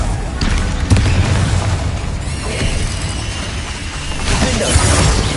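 Confringo spell blasts rip through combat in the Hogwarts Legacy video game, a sustained run of loud booms and shattering bursts with a heavy low rumble throughout and a fresh surge of impacts toward the end.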